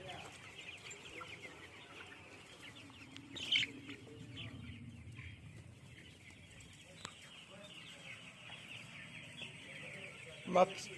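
Young chicks on a poultry farm peep and cluck faintly throughout, a soft continuous chatter with a couple of sharper calls standing out, heard at a distance in a quiet barn.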